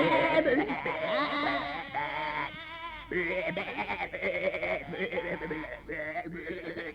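Sheep on a hill farm bleat repeatedly and close by, their wavering cries overlapping in a steady chorus with only brief pauses.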